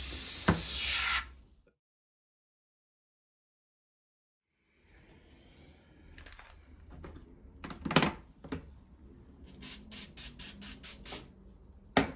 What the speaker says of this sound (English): So I'll give it a spray up, this one, because it's got the carbon on it.